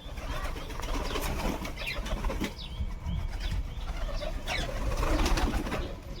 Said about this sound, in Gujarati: કબૂતર અહીંયા છે